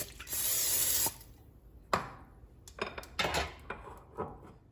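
A short hiss of cooking spray onto a waffle iron, followed by light clinks and clatters of the metal appliance and utensils nearby.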